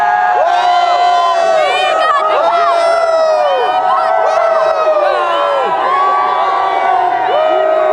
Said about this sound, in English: I'm just going to let them cheer for a minute.